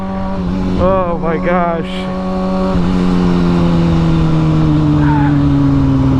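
A new motorcycle engine revs while being ridden on a hot day, the pitch rising and falling in quick bursts before settling into a steady, loud drone as the rider speaks over it.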